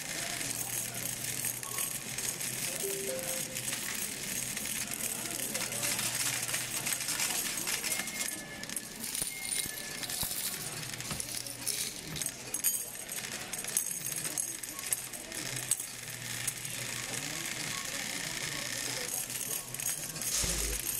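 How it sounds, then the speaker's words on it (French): A coin-counting machine in Brazil runs through Brazilian coins with a continuous rapid metallic rattling and clinking, fairly faint and steady throughout, no talk. "yon machine qui va le compter comme là et qui va remettre comme là en papier"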